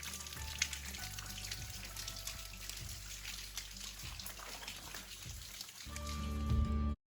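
Water cascading over the entrance of a large sandstone rock shelter on a creek nature trail, a steady broadband rush and patter of falling water that holds evenly throughout and swells slightly louder near the end.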